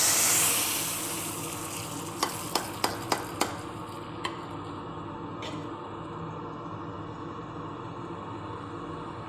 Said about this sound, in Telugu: ఇప్పుడు తాలింపు వేస్తాం.